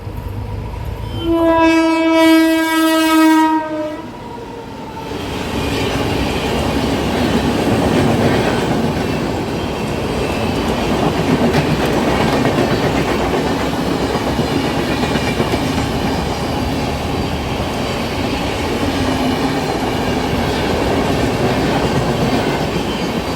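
The Patna–Ernakulam Superfast Express horn blares in a long, loud blast, then the train's steady roar and clattering wheels rumble on close by.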